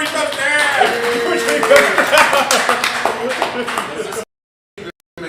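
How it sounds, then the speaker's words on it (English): Audience at a cigar shop's live Saturday event claps for cigar maker George Rico, scattered claps mixed with voices and laughter, a tonal ping rising through it, before cutting to near silence with brief bursts at the end. "let's get him a round of applause as well"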